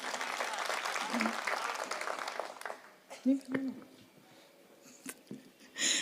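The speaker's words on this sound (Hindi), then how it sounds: "एक बार जोरदार तालियां बजाकर बताइए कि आप मुझे सुन रहे हैं" Clapping from an audience at a Hindi poetry and comedy gathering bursts up for a couple of seconds, then fades into scattered claps, murmurs and a voice speaking over a microphone.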